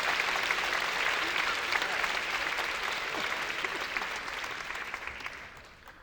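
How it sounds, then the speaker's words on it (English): A keynote audience at a conference claps steadily, a dense even wash of applause from a large crowd that holds for several seconds and slowly thins toward the end. "Give yourselves a round of applause."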